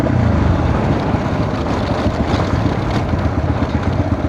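Two motorbikes race along a dusty off-road track, their engines a continuous close rumble mixed with heavy wind buffeting against the microphone, with no pauses or talk.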